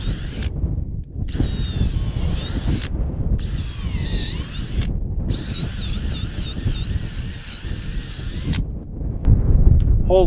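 A power drill bores bolt holes outdoors in several whining bursts separated by short pauses, close to the microphone, with wind rumble and handling noise underneath.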